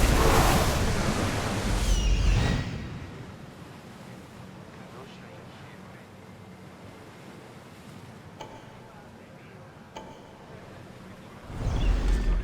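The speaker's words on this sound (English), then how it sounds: "Feel that wind!" Wind rushing past a ship under sail in Assassin's Creed Odyssey, with loud surf and splashing waves at the start and end and a quieter, steady breezy wash in between.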